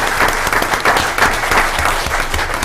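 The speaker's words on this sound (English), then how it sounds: "give a round of applause and thanks to our city employees for all of the" A room at a city council meeting applauds city employees with loud, steady clapping that continues unbroken throughout.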